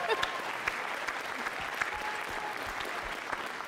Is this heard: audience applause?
yes